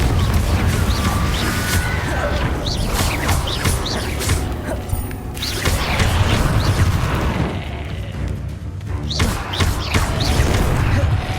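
Blasting-curse explosions and combat effects from the Hogwarts Legacy video game, with repeated sharp booms and crashes in a dense, loud battle mix and bright chirping magical sounds throughout.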